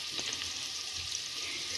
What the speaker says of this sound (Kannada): ಆಯಿಲ್ ಹಾಕೊಂಡ ನಂತರ ಹಿಂಗೆ ಈರುಳ್ಳಿ ಹಾಕೋಬೇಕು